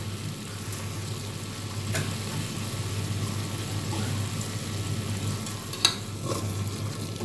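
Mint and coriander leaves stirred through a frying pan while cooking mutton kurma, giving a steady soft sizzle with light scraping and a few sharper clinks near the end, alone with no voices.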